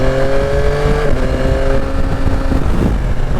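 A Yamaha Tracer 9 GT motorcycle engine pulls hard under acceleration, a loud steady drone with a rising tone and wind rush, close up and without talk.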